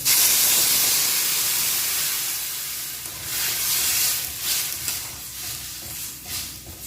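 Hot water is poured into a hot pan of raw banana seasoned with salt and turmeric powder, letting out a loud, close hiss and sizzle that slowly fades into softer bubbling and steam.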